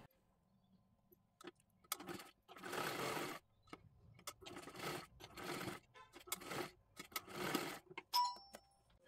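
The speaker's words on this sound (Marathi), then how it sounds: "आता हे आपल्याला डबल शिलाई मारून घ्यायची आहे" Sewing machine running a double line of stitching on a katori blouse, in several short bursts separated by pauses, with soft clicks and handling noises between runs.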